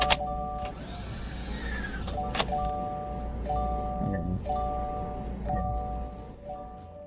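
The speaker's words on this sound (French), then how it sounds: "La voiture fait le même bruit que celle des Jetsons au démarrage." A car starts up with a whirring, futuristic electric whine that sweeps in pitch, followed by repeated steady tonal beeps and clicks over a low idle hum.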